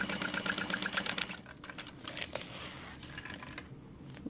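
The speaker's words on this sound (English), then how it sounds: "So, top stitching." A home sewing machine top-stitches fabric, giving a quick rapid rattle of needle strokes at first, then looser clicks and handling noises, fairly quiet and close with no speech.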